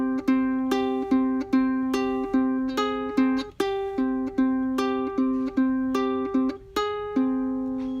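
A plucked ukulele plays a bright, repeating melodic phrase of single notes and short chords, clean and close with no talking.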